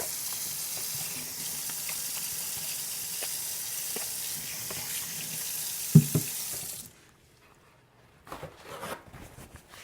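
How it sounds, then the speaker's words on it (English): Running water from a kitchen tap streams steadily onto hands in a sink, with a couple of sharp knocks near the end before the flow shuts off, then brief clatter. "Let me wash up my hands real quick."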